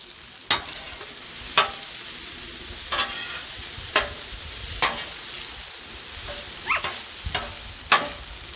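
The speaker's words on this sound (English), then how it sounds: "Now we can start using our spatula." A spatula scrapes and stirs paella on a hot flat-top griddle, about eight crisp, evenly spaced scrapes over a constant low sizzle, close up and without talk.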